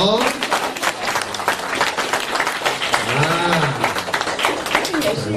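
Audience applause at a Buddhist dharma assembly in Paris, dense steady clapping running through the whole stretch with voices talking over it.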